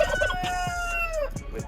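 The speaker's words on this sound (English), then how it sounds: "there's the other rooster in the background." A rooster crows once, a long drawn-out call fairly close by, followed by a few soft clucks.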